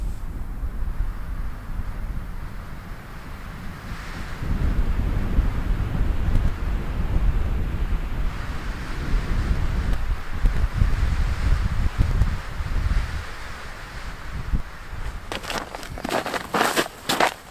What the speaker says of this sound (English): The wind is just blowing hard across the lake